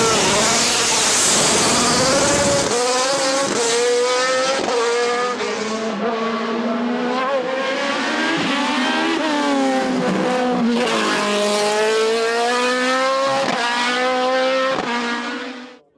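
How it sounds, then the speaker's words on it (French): A Formula 3 single-seater with a Mercedes engine, a Dallara F306, screams up the Col Saint Pierre hill climb, its engine loud and close with sharp rising pitch sweeps through upshifts before cutting off at the end. "Autre F3 à moteur Mercedes, une F306, cette fois-ci celle de Nicolas Verdier."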